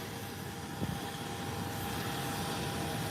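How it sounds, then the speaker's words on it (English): Delta Airlines airliner rolling down the runway for takeoff, a steady broadband engine roar that stays loud and even throughout with no voices over it. "here comes Delta Airline rolling down the runway"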